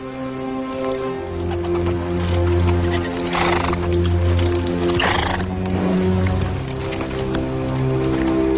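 Horses neighing loudly with long whinnies, accompanied by hoof clatter and movement, several animals close by.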